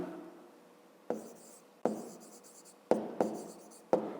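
A pen writes a math solution in a school notebook, making short scratchy strokes in separate bursts with quiet gaps between them, close and fairly faint.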